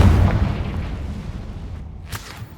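A Confringo fire-blast spell explodes in Hogwarts Legacy, a deep loud boom at the start that rumbles and fades over a couple of seconds, with a brief whooshing burst near the end.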